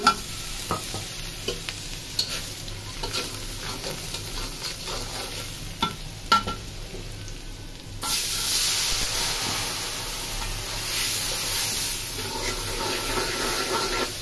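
Marinated singh catfish added to hot oil with browned onions and onion paste, quiet stirring and scraping clatter at first, then a sudden louder, steady sizzle as the fish goes in, no voices.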